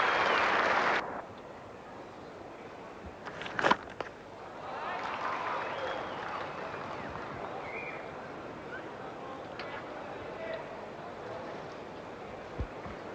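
A cricket crowd applauds a batsman during the 1988 Sheffield Shield Final between Western Australia and Queensland. A loud, distant burst of clapping opens and cuts off quickly, then gives way to a faint stadium murmur with a few scattered thuds.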